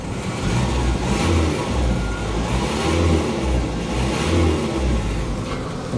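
A Plymouth Colt engine idling with a new exhaust, a steady low purr with gentle rises in revs, close and fairly loud.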